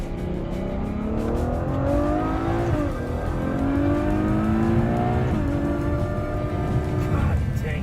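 A Ferrari Lusso V12 revs hard under acceleration from inside the car, its engine note climbing in repeated rising sweeps between gear changes, loud and close throughout.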